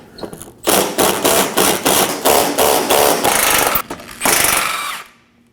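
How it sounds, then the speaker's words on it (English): A ratcheting tool with a 13mm socket buzzes and clatters in loud repeated bursts while backing out bolts during headlight work on a 2017–2024 Nissan Armada, close up with short pauses between runs. "Using a 13mm socket, go ahead and take those out."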